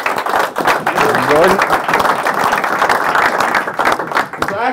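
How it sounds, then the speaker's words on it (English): A sales team in a meeting room claps for a colleague, the dense applause running steadily throughout while people talk over it. "Everybody clap it up for Jordan."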